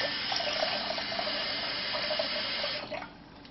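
Tap water runs steadily into a pot of quinoa in a kitchen, a continuous close splashing rush that softens and thins near the end as the flow eases off.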